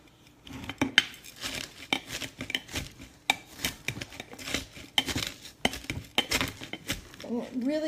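A Vitamix plunger packs shredded cabbage into a glass jar for sauerkraut, making repeated uneven knocks, clinks and squishing thuds, with a voice briefly audible near the end.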